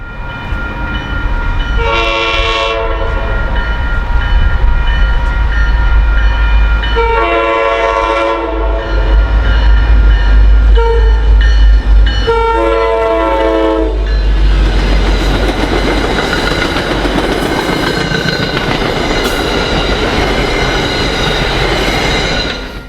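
An MPI HSP-46 diesel locomotive on MBTA commuter rail sounds its horn in three loud blasts over a heavy engine rumble, then roars past close by with rolling wheel noise.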